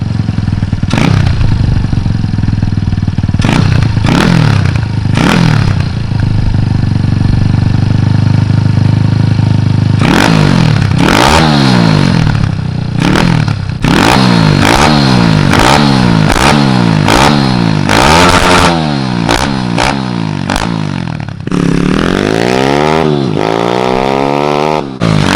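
A pit bike with an aftermarket exhaust and a sideways-cocked carburetor idles loudly, then is revved again and again in sharp bursts, ending in a long rising run, close and alone with no talk.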